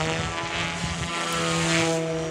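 A Yu Xiang F280 RTF 6S 3D RC helicopter flies, its rotor and motor making a loud steady whine with a harmonic buzz that stays constant, with no talking.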